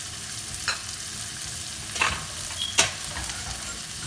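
Turmeric powder sautés in a pan with beef, a constant close sizzle broken by three or four scraping stirs of a utensil.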